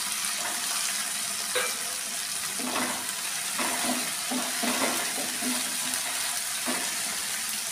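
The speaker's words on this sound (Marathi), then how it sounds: "आता आपण हे 1 टमाटा बारीक चिरलेला टाकून घेऊया. त्याला पण व्यवस्थित फिरवूया." Chopped tomato stirred into cauliflower frying in a pan for a home-style phoolgobhi bhaji, with a steady soft sizzle and several light spoon scrapes against the pan, close and alone.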